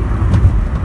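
Steady, loud roar of highway traffic and wind rushing past a superbike rider on a Sunday ride, a continuous low rumble with no distinct passes and no speech.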